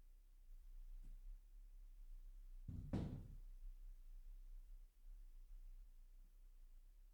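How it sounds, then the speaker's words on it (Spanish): A door closes with one soft, low thud in a quiet room over a steady low hum. "voy a cerrar la puerta"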